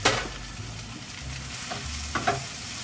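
Brussels sprouts frying in a pan, a steady low sizzle broken by a few scraping stirs from a utensil, close and moderately loud with no talking.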